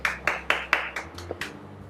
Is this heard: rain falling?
no